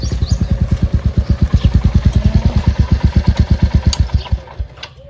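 Motorcycle engine running close by with a strong, regular thumping pulse, steady for several seconds before easing off near the end.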